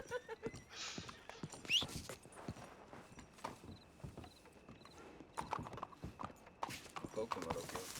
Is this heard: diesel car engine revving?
no